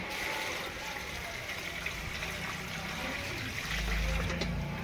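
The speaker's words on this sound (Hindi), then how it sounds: "पानी दिहला" Water pours into a pot while Odia-style dalma, a lentil and vegetable dish, is being cooked, giving a steady close trickle and splash that swells louder near the end.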